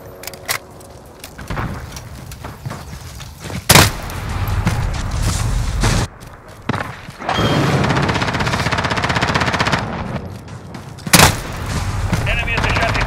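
Gunfire in Call of Duty Modern Warfare: dense rattling automatic bursts with a few loud sharp single reports, continuous and near, mixed with game noise and occasional voices.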